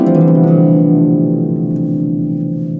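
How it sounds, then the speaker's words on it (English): A harp swept in a long downward glissando with the thumb, a shimmering cascade of plucked strings that sounds close and full, then fades as the notes ring out, with no voice. "The next glissando we're gonna do is a nice long downwards glissando where we use our thumb"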